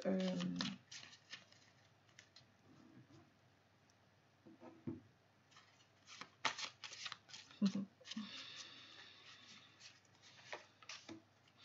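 Tarot cards are shuffled and laid out in a series of crisp riffling, flicking bursts with pauses between them, close and fairly quiet, while someone speaks French over parts of it.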